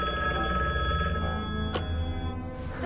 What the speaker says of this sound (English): There's someone on the phone called Galactor